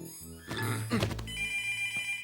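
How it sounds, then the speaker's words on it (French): A telephone bell rings in a cartoon scene: a steady, bright, repeating ring that carries clearly through the whole stretch with no voices over it. "le téléphone, ça sonne"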